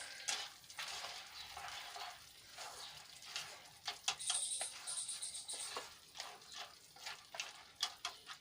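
Soft, continuous wet swishing and stirring as fried boondi is folded into warm sugar syrup for ladoos, quiet and close with faint sizzle-like hiss and occasional light clicks, no voices.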